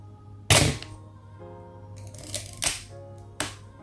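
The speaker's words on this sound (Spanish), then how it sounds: "Escuchad cómo suena la palanca de avance, que tiene un recorrido firme y preciso." Canon AL-1 QF film camera handled close up, sharp mechanical clicks and clacks as the advance lever is worked with a firm, precise stroke, several distinct snaps spaced across a quiet background.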